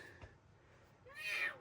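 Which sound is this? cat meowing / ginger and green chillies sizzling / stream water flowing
cat meowing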